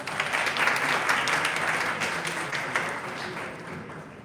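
Audience applause at an international academic conference during poster presentation awards, steady moderate clapping from a hall crowd that slowly thins toward the end.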